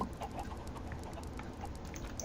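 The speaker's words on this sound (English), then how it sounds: "can you hear that crackle in the audio from those chickens?" Blocky Minecraft chickens cluck in a few short, faint calls over a soft, slightly crackly background, with no voices.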